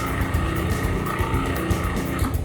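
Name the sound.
food processor running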